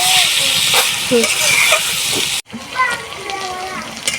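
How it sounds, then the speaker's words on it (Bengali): Food frying in a pan in a village kitchen, made with salt, turmeric and spices, gives a loud, steady sizzling hiss throughout, briefly cut by a sharp drop before the frying noise resumes. "এখানে আমি একদম ভাজা ভাজা করে দিলাম"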